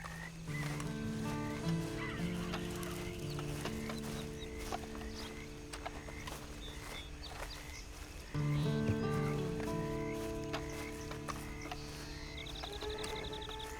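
A horse in the Red Dead Online intro clops steadily along, its hooves over a continuous outdoor bed of croaking frogs and bird calls, with a brief rise in level partway through.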